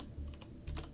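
Typing on a computer keyboard, two quick bursts of soft key clicks heard close and faint against quiet room background, with no talking.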